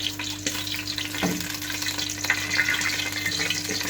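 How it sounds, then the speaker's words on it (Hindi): Black cardamom and other whole spices frying in hot oil, a steady close crackling sizzle with a brief stir partway through, alone with no talking. "इनको डाल देते हैं, इनको अच्छे से फ्राई करते हैं।"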